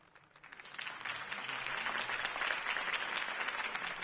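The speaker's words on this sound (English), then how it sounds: "If only Mr. Wayne, my campaign's largest backer, could have heard that applause" Steady applause from a crowd in the video game Batman: The Telltale Series swells up after a quiet start and holds at a full, even level, with no talking over it.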